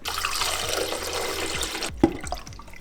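Three cups of water poured into a container while making a homemade hemp seed drink in a kitchen: a steady, close splashing rush that stops abruptly, followed by a few drips.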